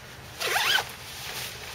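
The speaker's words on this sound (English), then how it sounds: "Now I'm gonna zip this up." A rain jacket worn for winter camping is zipped up in one quick, close rasping pull lasting under half a second, followed by quiet room tone.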